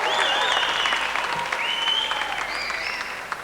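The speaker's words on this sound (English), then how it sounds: "we're just having a round of applause" Applause at the 1985 New Zealand Telethon in the Auckland Town Hall comes from a large crowd, loud and continuous, with whistles and cheers rising over the clapping.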